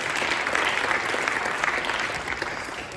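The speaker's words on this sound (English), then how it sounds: "let's have another round of applause for Dr." Audience applause for Dr. Nathan Wood of Yale University after his talk on healthy eating: a steady, dense wash of many hands clapping at even loudness for the full three seconds, with no voices over it.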